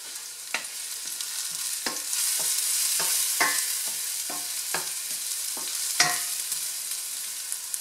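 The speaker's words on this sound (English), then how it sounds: "Saute your garlic very well, you know, to almost where it's turning golden brown." Garlic sautéing in a pan for chicken egg rolls, a steady close sizzle broken by repeated sharp clicks and scrapes of a utensil stirring against the pan.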